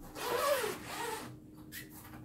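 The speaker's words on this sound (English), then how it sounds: "So simply unzip the top." A zipper drawn along the top of a double bow case, one close, soft rasping pull that tapers off, then a faint brief rustle.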